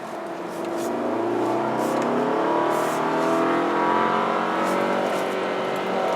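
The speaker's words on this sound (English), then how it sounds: "bit into the red line there, and you've got them braking the inside wheel for you" A Volkswagen Golf hot hatch engine revs hard toward redline while the car corners, a loud, sustained rising drone with steady pitch sweeps, heard close from inside the cabin with no talk over it.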